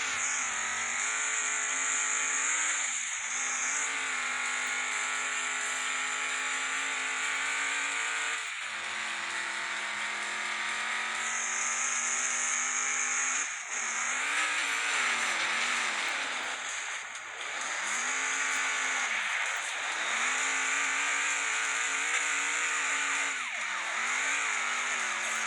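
Engine of the Colt Classic, a Ford Mustang-style old iron car in the game Demolition Derby 3, droning steadily with repeated rev rises and dips, loud and close, alone without talk.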